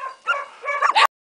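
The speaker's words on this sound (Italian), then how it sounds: "c'è il concerto di cani" Dogs barking from the last mountain huts at about 1230 m in the Valle Elvo, a short burst of several yelps and barks rising in intensity, then cut off abruptly.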